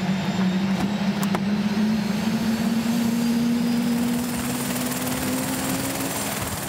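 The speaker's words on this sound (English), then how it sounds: "A short helicopter ride later, he was rushed into surgery" A helicopter flying steadily with a constant rotor drone and engine hum, loud and sustained, with a slowly shifting pitch.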